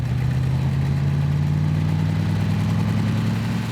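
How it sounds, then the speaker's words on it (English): A tractor-pulling machine powered by a rebuilt V8 Iveco truck engine running on alcohol roars loudly and steadily with a deep droning tone at a competition track, with no talk over it. "Also truck engine, V8 Iveco, rebuilt for running on alcohol."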